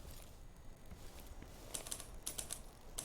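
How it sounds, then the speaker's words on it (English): In the video game Dishonored 2, someone types on a typewriter. The keystrokes come as faint, irregular clicks, clustered in the second half and heard alone at low level. "I can hear someone on a typewriter."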